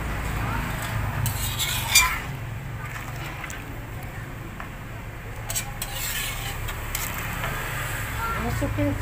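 Gulai tunjang, a Minang curry, is stirred in a wok, giving soft scraping and clinking strokes over a low steady background rumble.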